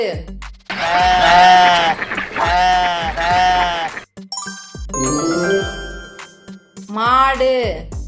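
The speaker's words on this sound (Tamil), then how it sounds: "ஆடு" A goat bleats four times in steady succession, loud and close, each cry wavering and drawn out, followed by bright chiming jingles and a final short bleat.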